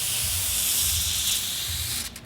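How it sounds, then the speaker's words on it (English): WD-40 lubricant sprayed around a shock collar during a suspension lift on a 2020 Toyota Tacoma TRD Pro, a continuous close aerosol hiss lasting about two seconds before cutting off. "Westcott Designs recommends you spray a little WD-40 around this."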